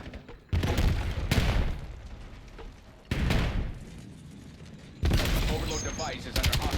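Gunfire in the Black Ops 7 video game: three heavy, rapid bursts of shots, each lasting a second or two and separated by quieter gaps, loud and close.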